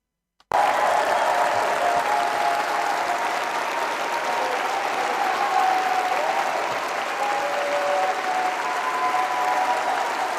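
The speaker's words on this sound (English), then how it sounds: "they're all at it like circus seals, clapping away" Sustained applause from a large party conference audience, starting abruptly and continuing steadily and loudly as a dense wash of clapping throughout, with a faint murmur of the crowd beneath.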